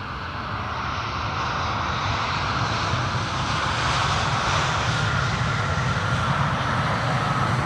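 Etihad Cargo flight 917 arriving from Abu Dhabi at Amsterdam Schiphol's center runway: a continuous broad jet engine roar, loud and steady throughout, with no voices.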